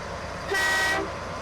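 A truck horn in the video game Expeditions sounds once, a single steady toot held for about half a second, loud and close, with no voices over it.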